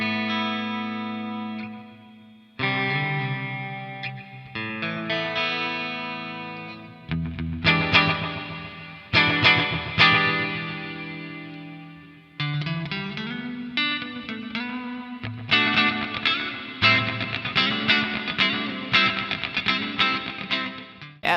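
Clean electric guitar through a Revv Generator 100R MKIII amp on its blue channel with the onboard reverb turned up: sustained chords and picked notes ringing out with a roomy, lingering tail, played alone in several separate phrases.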